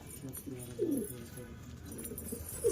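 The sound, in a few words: pigeons cooing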